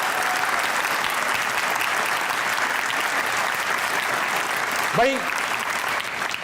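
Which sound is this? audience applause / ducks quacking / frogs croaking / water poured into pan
audience applause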